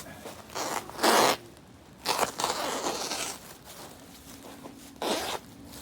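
Compost bin liner material being cut gives bursts of rasping, crinkly cutting noise in three or four separate strokes with quieter gaps between them.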